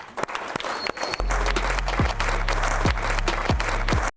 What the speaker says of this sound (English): give him a round of applause for coming up